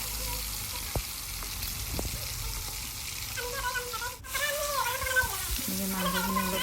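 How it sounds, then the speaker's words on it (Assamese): Meat frying in oil for an Assamese home-style chicken curry, a continuous close crackling sizzle with faint stirring clinks, rising and changing texture partway through as more is added or turned. "মাংসখিনি দি পেলাই অলপ ফ্ৰাই কৰিব লাগিব।"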